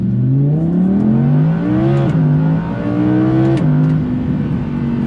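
An Audi R8 V10 Performance accelerates hard, its engine climbing loudly in pitch, dropping sharply at a gear change, then climbing again, heard close from inside the car.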